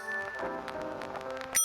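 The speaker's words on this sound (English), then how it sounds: "The bell is up here." A bell rings in the I Spy Treasure Hunt PC game, a bright sustained tone ringing steadily over about a second and a half and ending in a sharp brighter strike, with no talking.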